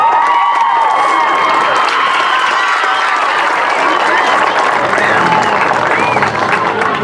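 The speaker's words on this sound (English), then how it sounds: "give a huge round of applause for the 2018 first pitch honoree" Crowd applauding and cheering for the first pitch honoree at a youth recreation opening day ceremony in Pickens County, a loud, sustained wash of clapping with children shouting, heard from within the crowd.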